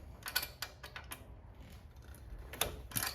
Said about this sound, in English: I have a preload adjuster tool here that came with the toolkit with the bike